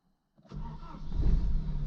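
A car engine cranks briefly and catches, then settles into a loud, rumbling idle close by. The car is being readied for an off-road enduro outing.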